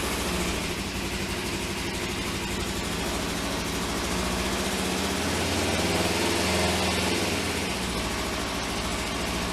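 A Kawasaki ER-5 motorcycle, restarted after sitting through winter, idles steadily with a dense, buzzing engine drone that stays loud and close throughout, with no talking over it.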